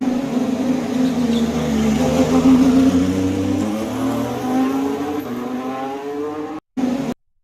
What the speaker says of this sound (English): why don't we play Nick de Vries in the A204 exiting the garage earlier this morning